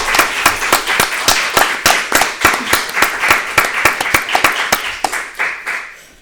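Applause at a literary colloquium comes as distinct, close hand claps in a brisk rhythm, a small group clapping steadily for several seconds before tapering off.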